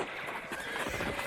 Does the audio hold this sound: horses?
yes